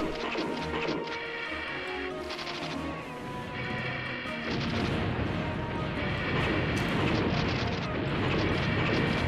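Gunfire aimed at an enemy in the MDK shooter game, a continuous crashing barrage of repeated impacts and blasts with game effects layered over it, staying loud throughout.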